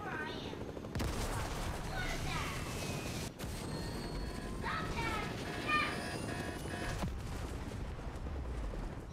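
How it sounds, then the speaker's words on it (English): Rapid gunfire crackles during a Fortnite match on Nintendo Switch, with bursts of shots aimed at the player coming in several waves, while a voice talks over the fighting. "Now they're shooting at me."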